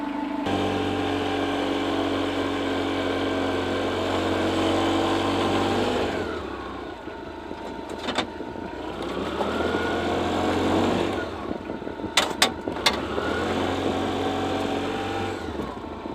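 A steady vehicle engine drones close by for the whole stretch while driving through snow on a farm, its pitch dipping and straining at moments as the vehicle pushes along.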